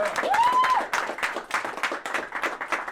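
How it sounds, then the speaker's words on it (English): A small gathering claps for David Michael Carr with brisk, close, uneven hand claps, a whoop rising briefly at the start. "Let's give one more round of applause for the real minority leader, David Michael Carr."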